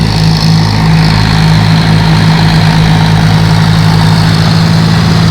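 A tractor engine idles steadily and loudly up close, a deep continuous rumble with a low throbbing hum that holds without a break throughout, recorded outdoors in a rural farm setting.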